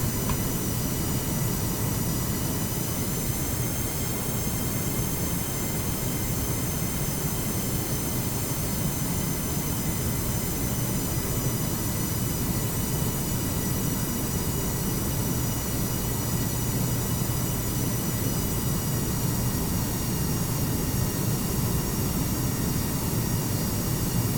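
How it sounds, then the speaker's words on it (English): MD-11 jet engines at takeoff in Microsoft Flight Simulator 2020 give off a loud, continuous roar with a steady whining hum layered on top, unbroken and even across the whole stretch with no voices. "go ahead and be quiet for the rest of the takeoff so you can hear the sounds from the MD-11"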